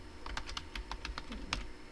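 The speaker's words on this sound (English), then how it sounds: "and I'm going to type in" Keystrokes on a computer keyboard while entering text into a Photoshop template, a quick irregular run of light clicks close to the mic over a low background hum, with no talking.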